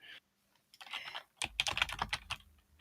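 Computer keyboard typing in quick irregular bursts of clicks and key taps, close and fairly clear, with a brief pause near the start and no talking over it.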